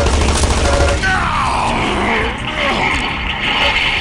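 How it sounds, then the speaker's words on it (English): Chaotic video game battle noise with rattling machine-gun fire and rocket blasts, loud and continuous, a heavy thumping opening giving way to swirling explosive roar, with faint voices underneath. "There's so much noise right now going on with so many machine guns and rockets"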